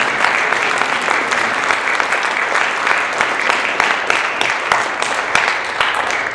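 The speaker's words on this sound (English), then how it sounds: "So please give them a round of applause." An audience at a university jazz ensemble concert gives sustained applause, dense clapping that stays fairly loud and even from start to finish.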